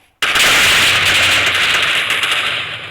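An Iron Man repulsor fires in a modded Minecraft game, a sudden loud blast that holds as a sustained harsh crackling roar, close and alone, tailing off slightly over about three seconds.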